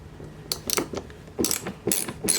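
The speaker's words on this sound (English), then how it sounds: "Now I can use it with my ratchet." A ratchet clicks in quick bursts while turning a bolt on a car door during a door speaker replacement. Several short runs of sharp, close mechanical clicking come with brief pauses between them.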